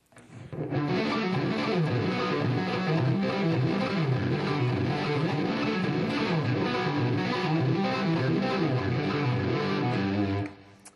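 Distorted electric guitar plays rapid arpeggios, the notes rising and falling in a continuous pattern for about ten seconds.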